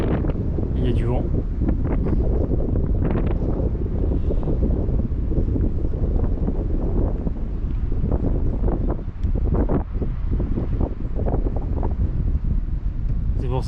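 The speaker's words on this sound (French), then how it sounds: "Il y a du vent." Steady mountain wind near a dam and lakes in the Néouvielle Nature Reserve rushes and buffets the microphone, a constant low roar throughout with faint voices underneath.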